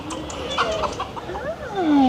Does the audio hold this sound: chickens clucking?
yes